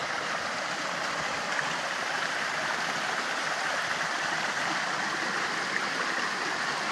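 A waterfall and flowing stream rush steadily as a constant, broad, hissing wash of water, unbroken and without voices.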